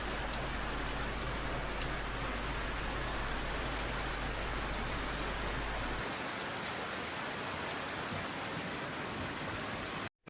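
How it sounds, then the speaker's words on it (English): A severe hail storm over Paris comes through as a dense, continuous hiss of falling ice and rain on surfaces, loud and even for about ten seconds before cutting off abruptly. "A sharp thunderstorm swept through Paris on Saturday, pelting the French capital with hail"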